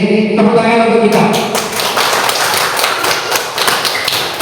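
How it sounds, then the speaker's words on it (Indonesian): A group of people clapping hands together at a school session, a dense run of quick taps and thuds, loud and close, after a brief voice at the start. "Ini tepuk tangan untuk kita."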